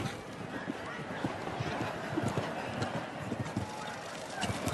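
Rapid hoofbeats of a show-jumping horse thud repeatedly on soft arena ground, a continuous galloping rhythm against a noisy, crowd-like background at a Nations' Cup competition in Calgary.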